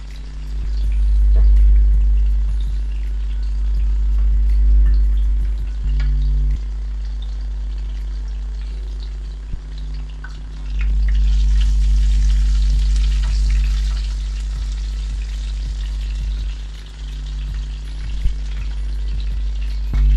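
Cumin seeds and chopped garlic fry in hot oil in a pan for keema-stuffed capsicum, giving a steady, loud sizzle with a few stirring scrapes. The frying swells brighter partway through and no one talks over it.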